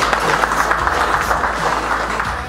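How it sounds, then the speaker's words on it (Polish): Sustained audience applause fills a business league gala, a dense, steady wash of many clapping hands at even loudness with a low musical hum running underneath. "gorące brawa dla waszej firmy"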